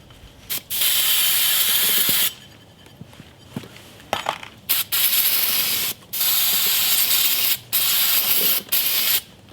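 Mechanical ratcheting and hissy bursts while bolts are tightened on a 1966 Volkswagen Karmann Ghia, coming in repeated loud stretches separated by short quiet gaps, no talking.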